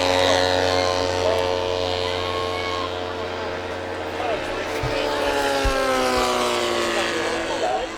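A radio-controlled model Beaver aircraft flies past at an airshow with model aerotow flying, its propeller engine droning with shifting pitch as it passes, while someone talks over it.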